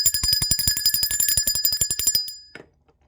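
A ringing bell strikes rapidly and repeatedly for over two seconds with bright sustained tones, then cuts off into silence.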